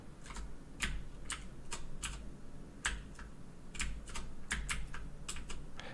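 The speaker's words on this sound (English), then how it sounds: "I'm using a keyboard controller instead of the Xbox controller right now" Computer keyboard keys are tapped in irregular clusters while steering a car in an arcade racing game, crisp close clicks over a faint low hum, with no voices.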